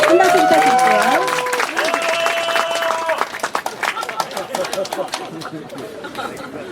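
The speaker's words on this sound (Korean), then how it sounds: "한 박수 부탁드릴게요" Applause and clapping from an audience at an anniversary ceremony, with a dense burst of claps, voices and chatter mixed in near the start that thins out over several seconds.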